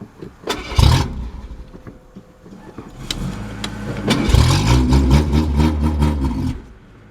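A junkyard Ford EXP cranks with a sharp clunk, then the engine catches and idles roughly before a heavier clunk as it drops into reverse and the idle steadies, loud and close, with no talking.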